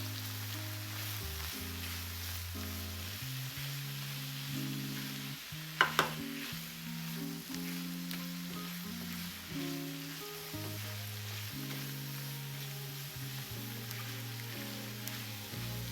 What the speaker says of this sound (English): And fry everything for 5 to 10 minutes until fragrant.